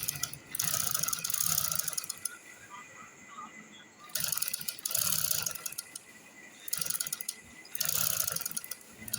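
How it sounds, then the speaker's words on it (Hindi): Home sewing machine stitching fabric after its needle was reset, running in three bursts of rapid mechanical clatter separated by brief pauses, close and fairly loud with no talking. "अब मैं आपको सिलाई लगा के भी दिखाऊंगी"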